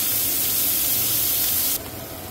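Onions, green chilies and curry leaves frying in hot oil for dondakaya pulusu, a loud, steady sizzling hiss that drops suddenly in level near the end.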